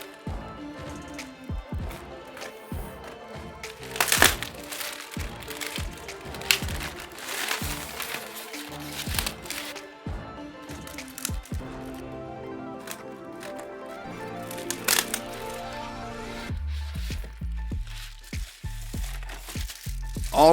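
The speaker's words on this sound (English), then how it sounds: "I'm gonna go ahead and just crack it open for you real quick." A massive cardboard shipping box holding a Nanmu Lost World Tyrannosaurus rex figure is torn and cracked open, with steady crinkling, ripping and scraping of cardboard and packing material over about twenty seconds, close and moderately loud.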